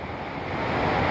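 Strong typhoon wind in Dumanjug roars steadily against the microphone, a broad rushing noise that swells slightly louder toward the end, with no voices.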